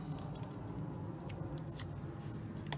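Masking tape being peeled off Tamiya 1/48 F-51D Mustang model airplane parts, a steady close crackling and tearing with a few sharper rips, continuous throughout.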